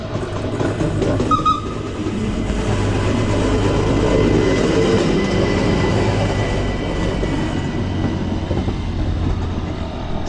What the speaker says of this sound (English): this is the cogwheel train